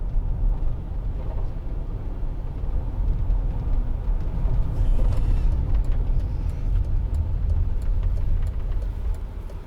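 Steady, close road and engine rumble from inside a 2008 Mercedes-Benz SLK200 1.8 Kompressor while it drives, holding an even level throughout with no talking.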